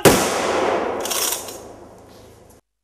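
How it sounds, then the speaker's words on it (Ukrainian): Ceremonial gun salute fired at a memorial cross during a wreath-laying: one sharp, loud blast opens, followed by a bright crack and a rolling echo that fades over two seconds. "урочистий салют"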